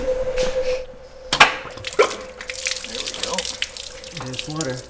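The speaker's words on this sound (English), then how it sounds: "There's water. There's water." Water gushes from a hose on a DIY electric RZR build, a steady splashing flow with sharper bursts near the middle, heard up close in a workshop setting without speech.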